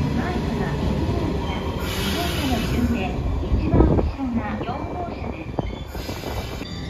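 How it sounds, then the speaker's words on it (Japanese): JR West 115 series suburban electric train on the Sanyo Main Line, a steady loud rumble of rolling wheels and motors with a squeal and a louder passing surge midway, no talking. "普通列車山陽本線糸崎行き115系近郊型電車です。"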